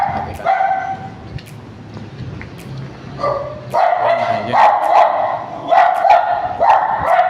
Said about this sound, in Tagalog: Medyo may aso eh.